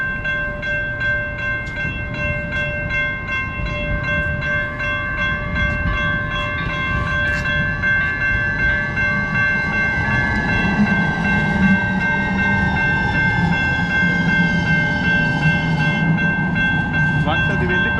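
A metro train passes a gated level crossing in America, its steady rumble and wheel noise holding for the whole stretch, with sustained horn or signal tones layered over it and faint voices underneath.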